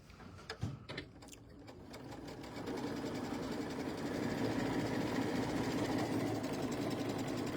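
A sewing machine stitching quilt block pieces for a sampler quilt, starting with a few taps and bursts, then settling into a steady, fast mechanical whirring hum, close but fairly quiet.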